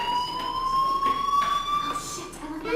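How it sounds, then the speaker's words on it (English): A steady electronic fire alarm tone with a high whine rings continuously in the video game Life Is Strange, with faint movement sounds underneath. "do you hear that fire alarm?"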